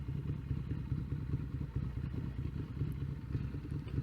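A scrambler motorcycle engine runs steadily up close, a dense low rumble with loose mechanical clatter and no voices over it.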